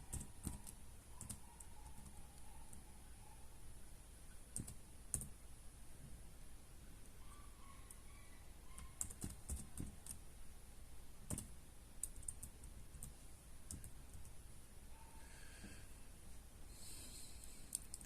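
Quiet, close computer keyboard typing and mouse clicks form an irregular stream of soft taps and sharp clicks over faint room noise.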